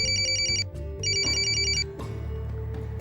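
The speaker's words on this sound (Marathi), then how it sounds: "तुझ्या सख्या मैत्रिणीचा फोन आहे." An electronic telephone ringtone sounds for an incoming call, with two bursts of a bright warbling ring separated by a short gap over a low background tone.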